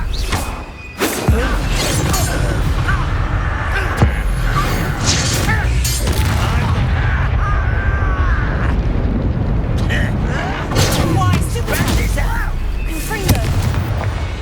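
Confringo blasting spells burst repeatedly during a Hogwarts Legacy battle, heavy booms and crackling blasts layered over dense combat noise and an ongoing speaking voice.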